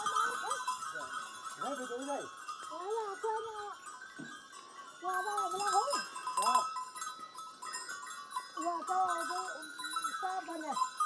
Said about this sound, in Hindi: ये देखिए भाई भाई साहब की बकरियाँ पहुँच गई हैं